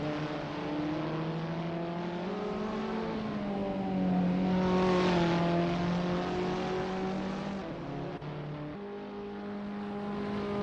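Abarth 500 race car engines drone and rise together as a field warms up at the Macau Grand Prix in Assetto Corsa, a steady layered buzz that swells midway, dips briefly near the end, then holds.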